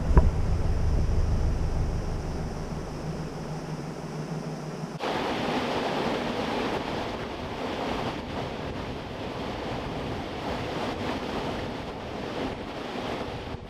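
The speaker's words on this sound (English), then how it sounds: "as the water rushes out with such force, it pushes the boat to the opposite bank" Loud, continuous rushing water roars without pause as it bursts from a canal lock sluice, a broad turbulent wash that shifts in tone partway through and keeps going.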